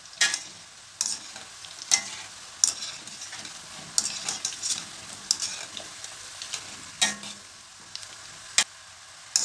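Boondi for motichur laddu fries in hot oil with a gentle steady sizzle, while a metal ladle sharply clicks and scrapes against the pan at irregular intervals, close and clear with no talking.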